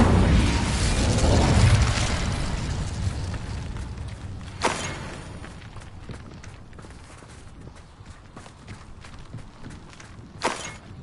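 Spell effects crackle and boom in the Hogwarts Legacy video game as an Incendio fire spell is cast. A loud rushing burst opens the passage, followed by scattered pops, sharp cracks and footsteps.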